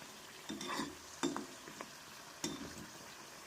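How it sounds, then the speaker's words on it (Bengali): Chandrakala sweet pastries deep fry in oil on a medium flame, a faint low sizzle broken by a few short bursts of ladle scraping as oil is spooned over them. "আবারও তেলটাকে এইভাবে আপনারা তুলে তুলে দেবেন তাহলে অনেকটা ক্রিস্পি মুচমুচে হবে"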